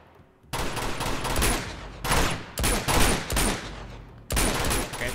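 Video game gunfire in Uncharted 2 comes as loud, close bursts of rapid automatic shots, several volleys separated by brief pauses, after a quiet opening.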